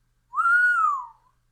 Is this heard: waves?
no